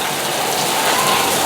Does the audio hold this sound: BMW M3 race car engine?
no